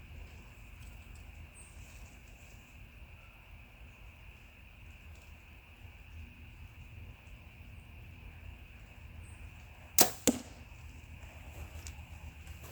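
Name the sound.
arrow hitting foam target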